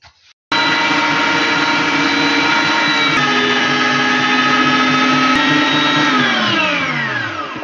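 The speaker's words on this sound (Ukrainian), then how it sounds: "М'ясо пропустила через м'ясорубку." Electric meat grinder mincing boiled meat, switched on abruptly after a brief quiet moment into a loud, steady motor whine and grinding drone that shifts pitch slightly, then winds down at the end.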